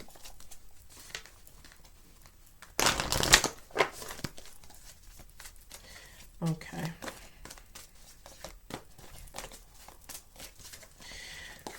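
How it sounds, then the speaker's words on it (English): Tarot or oracle cards being shuffled, a loud dense burst of riffling a few seconds in, followed by quieter rustles, with a voice speaking briefly. "Give it another shuffle."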